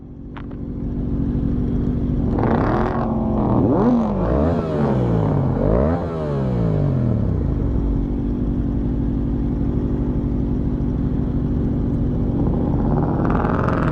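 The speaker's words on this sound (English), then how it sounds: "I said I heard your bike turn on from all the way over there. It's loud." A loud sport motorcycle, a Yamaha R7 or Kawasaki 636, fires up and revs hard, its engine note climbing and falling in sweeping bursts over a steady rumbling idle, close and continuous throughout.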